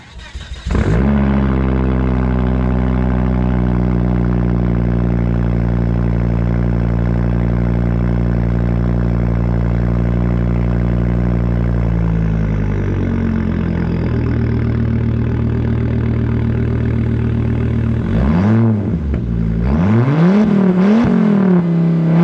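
A Volvo S60 T6 engine cold-starts and settles into a loud, steady high idle that holds for several seconds. The idle drops lower, then two quick revs rise and fall near the end, close up with no talking.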